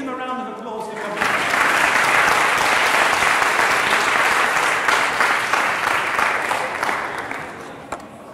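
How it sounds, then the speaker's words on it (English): A room full of conference attendees claps for overseas guests, with a brief spoken voice at the start giving way to sustained, broad applause that stays strong for several seconds before easing slightly. "give them a round of applause for coming"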